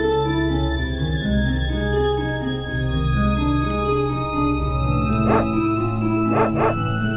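The sacred dog in the Secret of Evermore video game gives a few short yips and barks late in the clip, heard over a loud, steady musical soundtrack.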